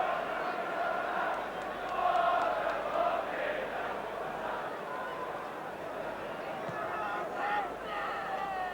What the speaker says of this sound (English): the crowd are howling at him because it, in the end, finished a good 10 yards wide